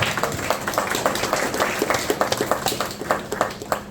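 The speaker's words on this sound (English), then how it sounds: "That deserves an applause." Applause from an audience at a city town hall meeting, steady rapid clapping from many hands that carries on for several seconds with sharp individual claps standing out near the end.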